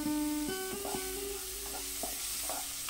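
Cashews and raisins fry in hot oil with a soft, steady sizzle and occasional stirring scrapes, with a faint tonal hum in the background.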